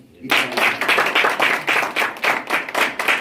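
A church congregation claps in unison during a Sunday service, a loud rhythmic series of about a dozen sharp, evenly spaced beats starting abruptly and continuing steadily.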